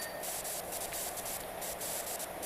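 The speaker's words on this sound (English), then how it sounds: "Let's see if we can't spray this tree off really fast." A virtual pressure washer in PowerWash Simulator 2 blasts a tree with a continuous close, loud hiss of spray that pulses slightly as the jet moves.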